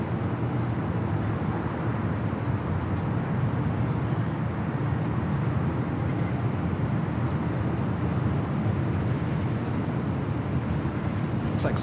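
A Swiss Boeing 777-300ER arriving at LAX from Zurich, a steady broad jet roar that holds loud and unbroken for the whole stretch with no voices over it.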